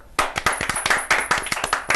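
Audience at a Hindi television quiz show clapping for contestants after scores are announced; a dense, steady burst of many hands begins after a brief quiet start and carries on without talk.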